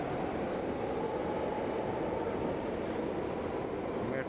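A São Paulo metro train makes a loud, continuous roar and rumble that holds steady throughout, close by, with no clear voices.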